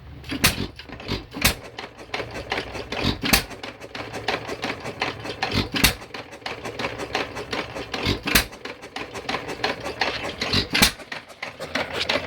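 A century-old engine, choke open and ignition on, starts and runs with a steady stream of sharp, evenly spaced knocking beats over a constant mechanical clatter, close and fairly loud, with no talking.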